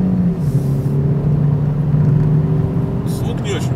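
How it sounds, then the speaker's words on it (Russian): A turbocharged Ford Focus engine accelerates at full throttle, giving a steady, loud droning rumble with a rising tone that runs through the whole stretch, with a slightly rough five-cylinder-like character. "Звук не очень приятный турбомотора. Такой, как будто пятицилиндровый мотор."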